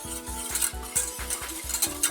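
Melted butter and Frank's Red Hot sauce being mixed in a pan, a steady run of about eight regular scraping stir strokes, close and clear with no voices.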